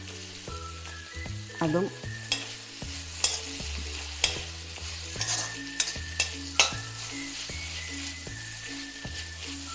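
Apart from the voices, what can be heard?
coconut mixture with curry leaves sautéing in pan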